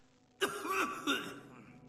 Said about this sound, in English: Well, apparently he's coughing to death now.